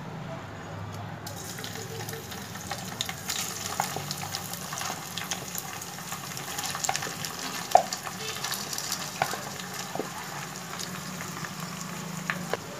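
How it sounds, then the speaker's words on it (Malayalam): A rice mixture sizzles steadily in hot oil in a pan, a constant close frying hiss with scattered small pops and crackles throughout. "അപ്പോൾ എണ്ണ നന്നായിട്ട് ചൂടായിട്ടുണ്ട് ഇനി നമുക്ക് നമ്മൾ മിക്സ് ചെയ്ത് വെച്ച ചോറിൻ്റെ കൂട്ടുണ്ടല്ലോ അത് ഇതിലേക്ക് ഇടാം"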